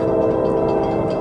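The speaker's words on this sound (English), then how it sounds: "Here comes another train. Northbound" A northbound freight train rumbles past close by with a loud, steady roar and a sustained horn-like tone over the clatter of the cars.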